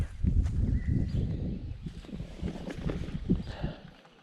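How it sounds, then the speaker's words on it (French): A horse walks nearby in the Sologne countryside, its hooves clopping in an uneven rhythm over rustling ground, fairly close and moderately loud. "il y a carrément un cheval là"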